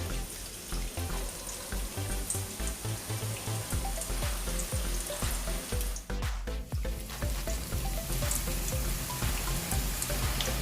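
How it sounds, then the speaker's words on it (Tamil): Boondi batter drips through a perforated ladle into hot oil over a medium flame, making a dense, continuous sizzle and pattering crackle, like close rain, with a brief dip partway through. "இந்த மாதிரி அரிக்கரண்டி எடுத்துக்கிட்டு இதுல நம்ம ஊத்தி நம்ம பூந்தி சுட போறோம்."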